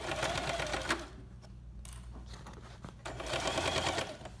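A home sewing machine stitches in two bursts of steady rapid whirring, close and fairly loud, separated by a quieter pause with light handling sounds.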